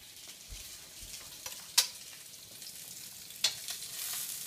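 Meat searing in a hot pan gives a steady, close crackling sizzle, with a couple of sharp pops standing out against the hiss and no talking.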